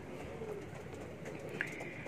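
Domestic pigeons kept by a breeder coo softly and low, a faint continuous murmur under a quiet background, with no voices.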